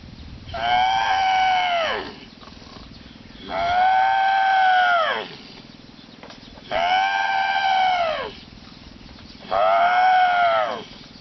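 A man imitates an elephant with his voice, giving four long, loud trumpeting calls in an even rhythm, each separated by a short pause.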